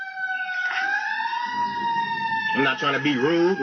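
A wailing siren sound effect rises and falls with strong harmonic tones, loud and close, while someone speaks over it toward the end.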